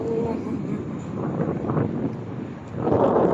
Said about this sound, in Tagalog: But it's windy.